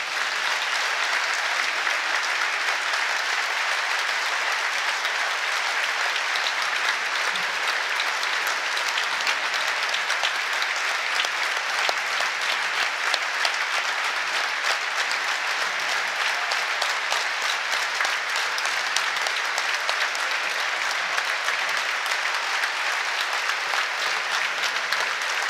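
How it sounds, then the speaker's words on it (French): A crowd at a professional handball match gives a long, sustained round of applause, a dense even wash of clapping that holds steady at full volume from start to finish. "Donc on va faire 1 minute d'applaudissements pour Thomas."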